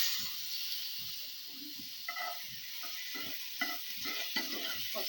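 Chicken pieces fry in white oil in a pan, a soft continuous sizzle broken by several clattering stirs of a spatula, close and fairly quiet, no speech.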